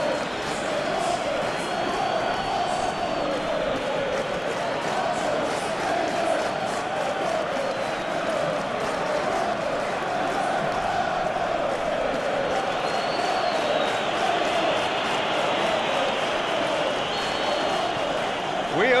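A football stadium crowd roars continuously at a match, a dense, loud wall of cheering with no pauses and commentary voices talking over it.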